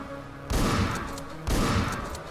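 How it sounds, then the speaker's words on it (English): Gunshots in the top-down action video game Hotline Miami 2, two sharp loud blasts about a second apart, each with a booming body that decays slowly over background game music. "I'm gonna be able to shoot him."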